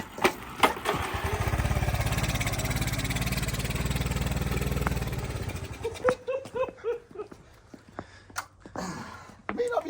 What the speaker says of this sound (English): Was that the bike or was that you, Abe?